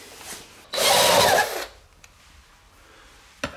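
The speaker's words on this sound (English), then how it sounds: "Let's pull those off and screw on the new seat." A power drill runs in one loud burst of just under a second, backing screws out of a boat seat pedestal. Quiet handling sounds and a short knock follow.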